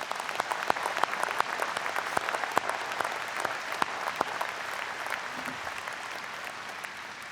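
A round of applause at a college of engineering convocation, a large audience clapping in a steady, full wash with sharp individual claps standing out, holding level and thinning slightly toward the end.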